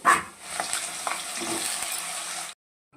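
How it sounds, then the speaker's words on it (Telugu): Potato pieces frying in hot oil give a steady, close crackling sizzle with a few scraping stirs, running about two and a half seconds before cutting off. "కొన్ని కొన్ని ఆలుగడ్డలు వేసుకొని కొంచెం కలర్ చేంజ్ అయ్యే వరకు అయితే ఫ్రై చేసుకోవాలి"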